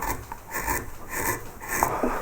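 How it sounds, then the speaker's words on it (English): A deep gouge carves into wood on a bow tie carving, giving soft, close rasping and scraping strokes that repeat in a quiet, steady rhythm. "I'm going to take a deep gouge and we're going to just remove wood in there like that"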